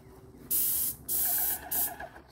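Three loud bursts of spray paint hissing from a sprayer while painting a farm house, each lasting about half a second with short pauses between, close and clear with no talking.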